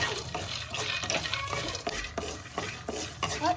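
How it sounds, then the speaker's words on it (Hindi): Peanuts are roasted in ghee in a wok, stirred with repeated scraping and clattering strokes over a soft sizzle, close up, with no voices. "अब उसी कढ़ाई में घी डालकर मूंगफलियों को अच्छे से रोस्ट कर लेंगे।"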